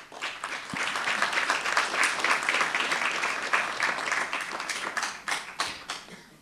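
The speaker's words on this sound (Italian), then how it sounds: "in questo applauso" An audience applauds at a book presentation in Sciacca, steady dense clapping from many hands throughout, with a few louder nearby claps standing out toward the end.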